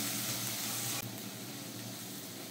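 Small onions sautéing in a pan give off a steady, even sizzle with a faint hiss, close and continuous, with no voices over it.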